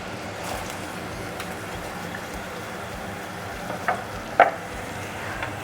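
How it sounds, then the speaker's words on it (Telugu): Onions go into a hot pan for a mushroom curry and fry with a low, steady sizzle, with a couple of soft clinks of stirring near the end. "ఉల్లిపాయలు యాడ్ చేసేస్తున్నాను."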